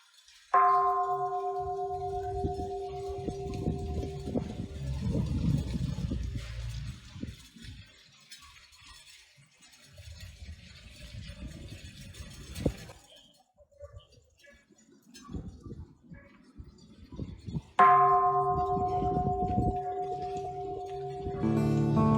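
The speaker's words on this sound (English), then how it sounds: "We will strike the bell to begin and then to end our moment of gratitude." A bell is struck at an Obon gathering and rings out with a long, slowly fading tone, then after a long quiet stretch with low rumbling it is struck again.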